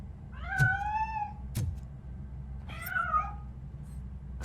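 A cat in the video game Robocop: Rogue gives two clear, close meows, each rising and falling, separated by a short gap and by sharp clicks, with no talking.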